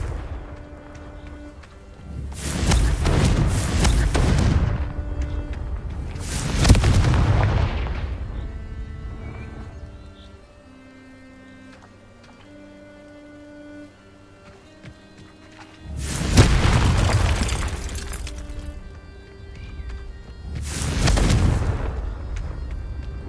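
Confringo fire-blast spells cast in Hogwarts Legacy burst in two pairs of heavy booming explosions, each loud and rumbling with a long fading tail, separated by a quieter stretch of game ambience and music.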